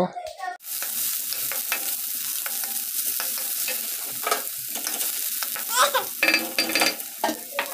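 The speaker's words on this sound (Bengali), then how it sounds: "এবার আমি খুব ভালো করে সবকটা জিনিসকে একসাথে ফ্রাই করে নেব" Chopped onions fry with an eggplant mixture in a pan, a steady close sizzle broken by repeated scraping stirs, growing busier toward the end.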